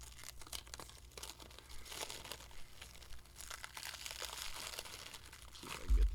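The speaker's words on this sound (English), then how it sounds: "I will take a minute and open this up. It's all shrink wrapped." Shrink wrap is torn and crinkled off an auction-bought comic book in a series of crisp, close crackling rips over several seconds, with no voices.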